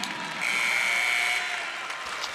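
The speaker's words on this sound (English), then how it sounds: "a round of applause for All-American Marcus" A crowd at a ULM game applauds an All-American football player during a media timeout, a continuous broad roar of clapping with a steady buzzer-like tone sounding briefly over it.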